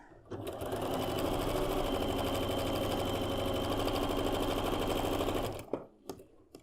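Domestic sewing machine stitching a seam on a bow-tie quilt block, a fast steady mechanical rattle running nearly five seconds close up, then stopping with a few soft clicks and handling noises.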